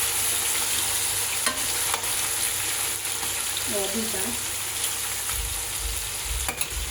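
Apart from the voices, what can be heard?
deep frying food in oil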